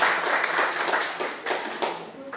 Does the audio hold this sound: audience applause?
yes